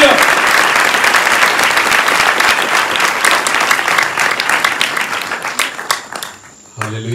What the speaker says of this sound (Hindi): फिर एक बार जोर से प्रभु के लिए ताली बजाएं।